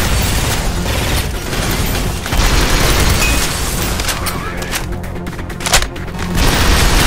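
Mortar explosions in the top-down shooter Synthetik, a dense run of heavy booms and crackling bursts mixed with gunfire, loud and continuous, with a sharp pop near the end.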